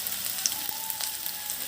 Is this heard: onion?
yes